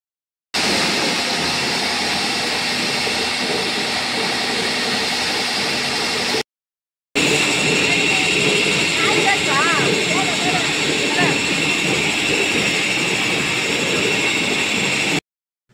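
A chilli grinding mill loudly processing dried red chillies, a steady dense mechanical roar that fills the whole clip, with a brief break partway through before the grinding resumes, and no talk over it.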